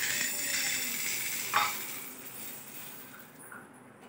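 Sago pearls being dry-roasted and stirred in a pan for a fasting-day curd sago dish, a soft steady scraping and rustle with one brief louder scrape partway through, no voices.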